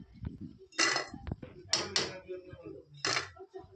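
Crispy fried kodubale rings, a homemade Karnataka snack, rattling and clattering in a container: several loud, bright bursts of clinking, hard crunchy knocks spaced irregularly, close by.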